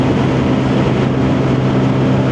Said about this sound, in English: Revs to the max.